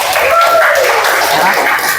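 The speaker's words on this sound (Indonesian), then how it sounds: "Boleh tepukan dulu buat kelompok 1" A classroom of students claps for a group after its grade is announced, a continuous, fairly loud patter of hands with faint voices or cheers mixed in.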